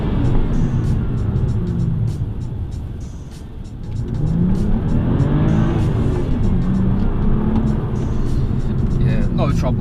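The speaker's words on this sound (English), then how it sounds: "Let's take this car for a drive." A BMW M235i with a manual gearbox, set to sport mode, drives with a steady engine drone and road rumble throughout, rising under acceleration, while people talk over it.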